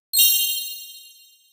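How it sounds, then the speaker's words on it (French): Single bright metal bar struck once on a 12-bar children's carillon (glockenspiel), ringing close and clear with a long fading decay and no voices. "tu peux les faire sur ce carillon 12 lames"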